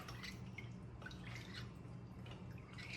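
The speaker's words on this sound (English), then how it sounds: "I am just going to use my tablespoon here to give this a stir." A tablespoon stirs instant yeast into water in a bowl. Soft, close liquid swishes and light drip-like clinks repeat in a loose rhythm at low volume.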